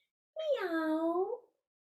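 A human voice imitates a cat's meow during a yoga cat-cow stretch, a single drawn-out, clear vocal meow lasting about a second, close and alone with no other sounds around it.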